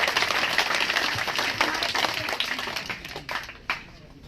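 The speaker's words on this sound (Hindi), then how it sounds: "एक बार जोरदार तालियों के साथ देवेंद्र कादन जी का हौसला बढ़ाएं।" Clapping and applause from a political rally audience in Ganaur for Devender Kadyan, brisk and fairly close, tapering off into scattered claps over a few seconds.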